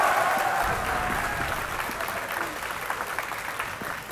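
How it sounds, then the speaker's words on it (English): At a live Counter-Strike esports match on Dust, a home-turf arena crowd bursts into loud, sustained applause and cheering, a dense wash of clapping that slowly eases off, with commentary running underneath. "That home turf crowd going nuts."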